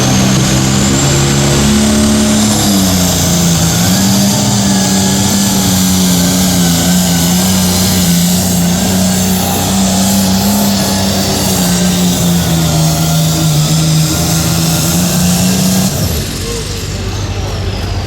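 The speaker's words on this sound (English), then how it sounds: "That's a pulling truck." A pulling truck's engine roars at a truck and tractor pull, a loud, sustained revving drone for about fifteen seconds that then cuts off, with an announcer's voice over the event.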